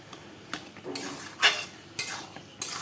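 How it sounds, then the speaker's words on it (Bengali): A spoon scrapes and clinks against a cooking pot in slow, repeated strokes as garam masala is stirred into a simmering dish, each stroke a short, close scrape with soft sizzling faintly beneath. "আমি ভালো করে মিশিয়ে নিলাম গরম মশলা"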